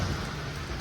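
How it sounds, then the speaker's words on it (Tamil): Steady rain pours on a city street in downtown Toronto, a dense continuous hiss that stays loud and even throughout with no voices. "ஓ, இது மழை"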